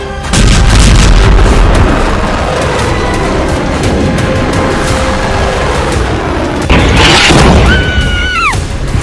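Missile strikes exploding in Beirut, heavy continuous rumbling roar of blasts and debris, loud and dense throughout, with a sharper surge near the end followed by a wavering siren-like tone.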